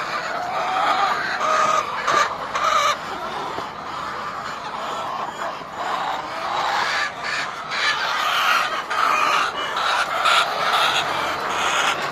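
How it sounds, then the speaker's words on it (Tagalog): Hungry chickens cluck and murmur continuously at close range, several birds overlapping in a busy, restless chorus with occasional louder squawks. "Pero yung mga manok, gutom na."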